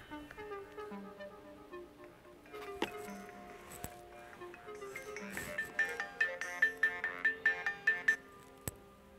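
A phone ringtone plays for an incoming call: a bright electronic melody of repeated tones, growing louder into a rapid run of rising chimes, clear and close with no talk over it.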